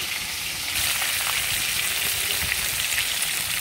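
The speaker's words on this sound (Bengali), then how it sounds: "মাছের এক পিঠটা আমার ভাজা হয়ে এসছে," Fish frying in hot oil in a pan for a sour fish curry, a steady dense sizzle that grows louder after a moment and then holds, close and alone.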